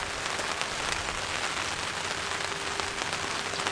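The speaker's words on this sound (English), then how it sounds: "So first time having rain on the tarp, this tarp," Rain drums continuously on a stretched tent tarp in a backyard campsite, an unbroken close hiss of many drops without any voices.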